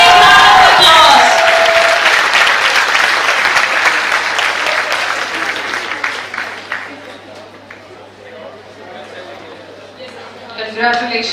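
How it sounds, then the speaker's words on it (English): Audience applause for moot court competition winners receiving trophies, loud dense clapping that swells then gradually thins and fades, with crowd chatter and a brief renewed burst near the end. "A big round of applause."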